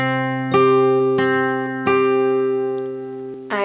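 Slow guitar fingerpicking across strings 6, 3, 2 and 1 for a song: three separate plucks ring out and sustain, then a brief final strum near the end, all close and clear.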